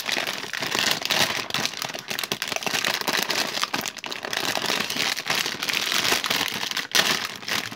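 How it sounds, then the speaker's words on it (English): Plastic bags from a Wilko Blox City Airport construction set crinkle and rustle continuously as they are torn open and handled up close, a dense, crackling stream of noise lasting several seconds with no voices. "I apologise for all the rustling."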